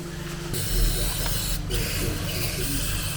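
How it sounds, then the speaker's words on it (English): Brake cleaner is sprayed onto a Triumph Speed 400 or Scrambler 400 X motorcycle part, giving a loud, continuous aerosol hiss up close that runs through the whole stretch. "Just brake cleaner, brake cleaner just to get the"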